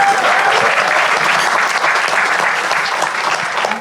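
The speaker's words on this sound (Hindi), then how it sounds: "यार एक बार जोरदार तालियां" Loud, steady applause from an audience fills the whole stretch, dense clapping without letup.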